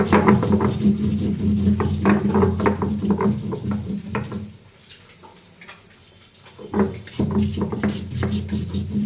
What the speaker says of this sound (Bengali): এবার আমি মশলাটা বেটে নেব সুন্দর করে